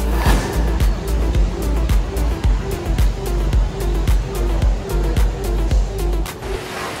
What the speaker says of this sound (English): At the center of the mall, you can see the waterfall. This is the tallest man-made indoor waterfall.